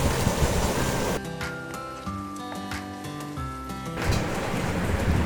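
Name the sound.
vegetables frying in a pan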